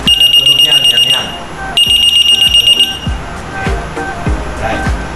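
A walkthrough metal detector's alarm sounds in repeated electronic beeping bursts with short pauses, fairly loud, while people talk nearby and intermittent thuds and clatter are heard.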